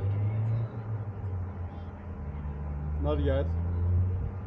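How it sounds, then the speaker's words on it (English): A car drives on a road with a steady low engine hum and road rumble throughout, while a person talks briefly over it. "I'm driving."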